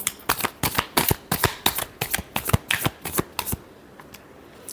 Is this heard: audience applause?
no